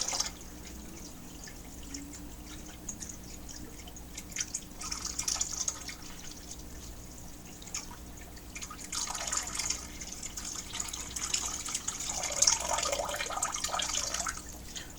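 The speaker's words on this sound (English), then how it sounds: "I'm going to add the water to it" Water trickles and splashes as it pours steadily into a fish tank, with gurgling swells later on; close, continuous, no speech.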